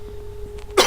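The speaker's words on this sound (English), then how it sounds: "I'm going to cough again" A single loud, sharp cough bursts out at the very end after quiet breathing and faint throat noises, close to the microphone.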